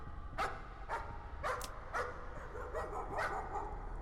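A dog barks in the Layers of Fear horror game, about seven sharp, evenly spaced barks at a steady, moderate distance over a dark, low ambient hum.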